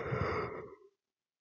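A single tired late-night yawn, a breathy exhale that swells and fades out within a second, followed by silence.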